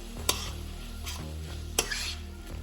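Vinegar sizzles and cooks out in a pan of aubergine stifado, a steady close frying hiss with a few sharp stirring clinks of a utensil against the pan.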